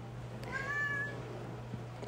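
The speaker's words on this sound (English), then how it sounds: "The cat says hi too." A house cat gives a single short, rising meow, close and clear over a steady low electrical hum in an artist's studio, with no one speaking.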